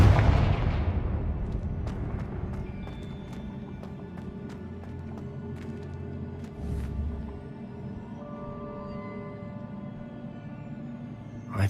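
A Confringo fire spell exploding in Hogwarts Legacy, one heavy booming blast at the start that rolls off into a long rumbling fade, with faint crackles and a lower thump trailing after.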